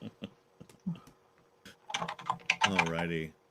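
Computer keyboard typing during a live engineering stream: scattered bursts of close, crisp key clicks, followed by someone talking near the end.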